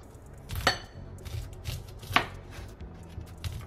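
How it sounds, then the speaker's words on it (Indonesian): Corn kernels smashed on a cutting board for corn fritters (bakwan jagung), making two sharp, close thuds about a second and a half apart, with softer knocks between them and no talk. "Kadang cuma digeprek-geprek di atas talenan kayak gitu"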